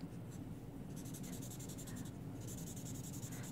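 Pencil drags across paper in steady scratchy strokes, close up and quiet over a soft constant background hiss.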